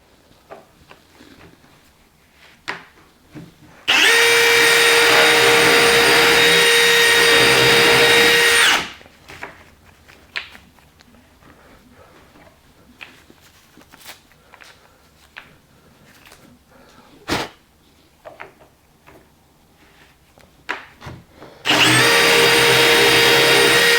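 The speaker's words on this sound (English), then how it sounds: "all we need to do is put our drill on and go ahead and drill our hole" A power drill boring a hole for a concealed cabinet hinge with a jig whines loudly in a sustained burst for several seconds, followed by quiet clicks and handling noises, then starts up again near the end.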